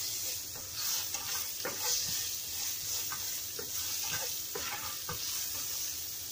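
Pork sizzles loudly in a hot pan while it is stirred, with repeated scraping strokes every second or so over a continuous frying hiss.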